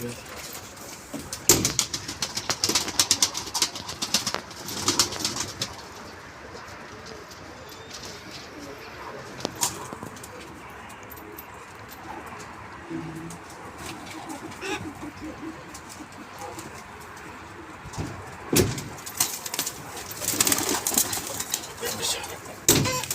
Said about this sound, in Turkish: kuşları göster